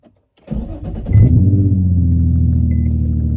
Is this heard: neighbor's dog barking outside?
no